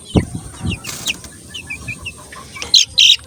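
Chickens raised from unvaccinated chicks cluck several times in short bursts, close and fairly loud, with some wing flapping and no talk.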